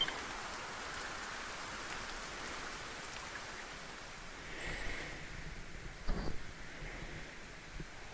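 Steady rain falling in the Dragon Quest 1 HD-2D video game, a soft continuous hiss of drops with a brief thud near the end, faint and without talk.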